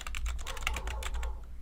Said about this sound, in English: Uh-oh, there's typing.